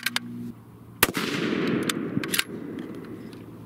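A custom 6.5 Creedmoor rifle loaded with Hornady 140gr Aeromatch over Reloader 16 cracks loudly once, the sharp report rolling out into a long fading echo across an outdoor range, with a few faint clicks before and after.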